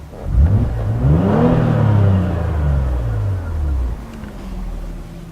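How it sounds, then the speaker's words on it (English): A 2012 Opel Insignia OPC engine revs freely, rising quickly to a loud, sustained high-rpm roar before easing back down and settling into a lower rumble near the end. "Very free revving engine."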